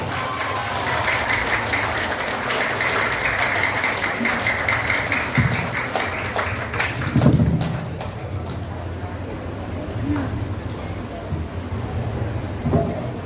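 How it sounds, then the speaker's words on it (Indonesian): Audience clapping at the opening of a school mathematics olympiad semifinal at St. John Catholic School BSD, a steady sustained round of applause that thins out after several seconds, with some voices and crowd murmur underneath. "Kita berikan tepuk tangan satu kali lagi"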